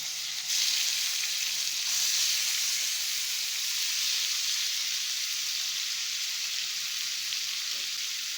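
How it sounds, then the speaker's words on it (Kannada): Soaked prawns frying in butter and oil in a pan, a steady, close, loud sizzle with an even hiss that continues throughout without pause. "ಪ್ರಾನ್ಸ್ ನೆನೆಸಿದ್ನಲ್ಲ ಅದು ಹಾಕೊಳ್ತಾ ಇದಕ್ಕೆ ಹಾಕ್ಕೊಂಡು ಫಸ್ಟ್ ಫ್ರೈ ಮಾಡ್ಕೊಳ್ಳೋಣ"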